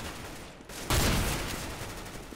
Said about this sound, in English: Another headshot with a shotgun.